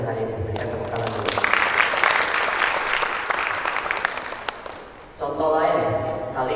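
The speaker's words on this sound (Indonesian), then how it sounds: "Berikan tepuk tangan dulu." Indoor audience at a university talk applauds steadily for about five seconds, loud and sustained, then fades as a speaker resumes talking.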